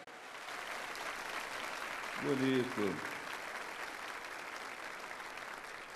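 A church congregation applauds Pope Francis with steady, dense clapping that fills the space throughout, while a voice briefly speaks over it midway.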